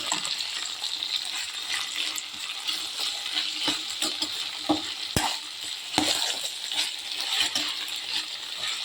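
Boiled bitter gourd stir-fried in oil in a pan: close, continuous sizzling with frequent scraping and clinking of a spoon against the pan, including a couple of sharp knocks.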